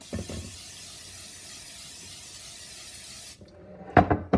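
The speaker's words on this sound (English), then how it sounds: "I'm still going to spray this pan with Pam" Cooking spray hisses steadily onto a glass pan for about three seconds, then cuts off, followed by a brief clatter nearby.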